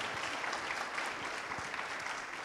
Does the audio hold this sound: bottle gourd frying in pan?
no